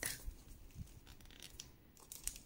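Gift wrapping paper on a birthday present being torn open, a run of close crackly rips and crinkles with no talk.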